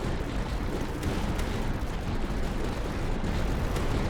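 Durandal cannons fire in the Tower Dominion video game, a dense, continuous barrage of booming shots layered into a loud, rumbling wall of gunfire with no pauses.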